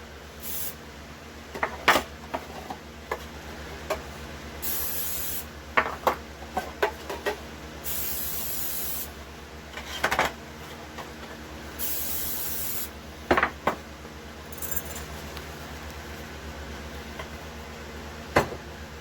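Several short hissing bursts of aerosol cooking spray onto loaf pans, repeated at irregular intervals, with light clicks and handling noises between them in a quiet kitchen.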